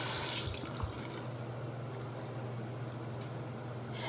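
Tap water runs steadily into a bathroom sink during a morning face wash, a continuous hiss with a faint low hum underneath and no voices, fairly quiet and close.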